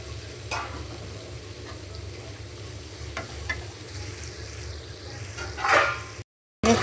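Spice paste fries in leftover oil from frying chicken, making a continuous close sizzle with occasional stirring scrapes and bursts of crackle, and no one speaks.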